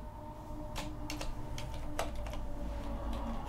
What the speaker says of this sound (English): I'll just keep typing